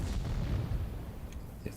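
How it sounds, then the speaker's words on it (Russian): A loud tank gun shot in a tank video game, with a Soviet T-62A tank involved, rings out as a deep booming rumble that fades over the following second. "Громкий выстрел."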